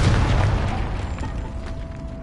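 A booming blast from the Confringo fire spell in the Hogwarts Legacy video game, a single loud burst that decays over about two seconds.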